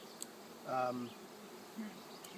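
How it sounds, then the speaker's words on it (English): During a honey bee hive opening, an old, greasy-looking worker bee with tattered wings gives a short, faint buzz, followed by a fainter hum against quiet background noise. "This old black greasy bee here."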